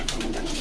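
A brief coo from Rajshahi pigeons at a pigeon market in Bogura, soft and close, lasting under a second over a low background hum.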